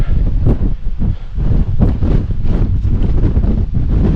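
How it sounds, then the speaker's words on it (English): Strong wind buffets the microphone on an exposed fell near Skiddaw in Cumbria during a solo backpacking hike, a loud, continuous rumbling roar with gusting surges throughout and no other sounds. "I'm really hoping the wind dies down a bit"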